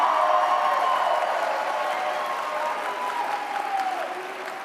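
A large conference audience at CPAC 2021 applauds for the president in a sustained, dense wave of clapping that carries on throughout at a fairly even level, with faint crowd murmur beneath.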